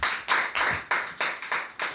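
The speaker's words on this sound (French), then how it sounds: "Ça applaudit" An audience claps in sharp bursts, about seven quick rhythmic rounds of hand clapping at close range, with no voices over it.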